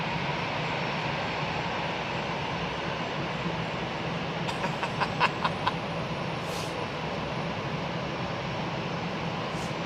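An aircraft arriving at Hamburg Airport gives a steady, distant broadband roar that runs evenly throughout, with a few faint clicks near the middle and no voices.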